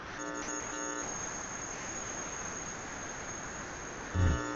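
A radio under repair puts out a steady, high, electrical buzz with a constant tonal hum that runs the whole time, ending with a brief low thump near the end. No one speaks.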